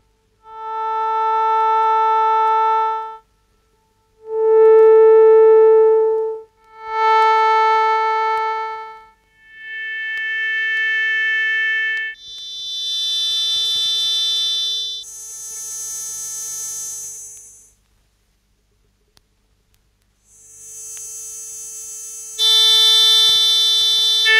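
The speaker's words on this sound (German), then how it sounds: "Sie hören einen Klang, der in verschiedene Teiltonbereiche zerlegt und dann nacheinander von oben nach unten wieder zusammengesetzt wird." Electronic music demonstration of a synthesized tone split by filters into partial-tone bands, then recombined band by band from top to bottom; a series of steady, loud sustained tones, each a few seconds long, separated by short gaps.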